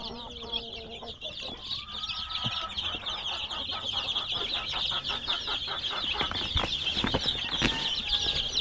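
Chickens and young chicks on a farm cluck and peep in a dense, continuous chorus with a few wing flaps, close by and steady throughout, with no one talking.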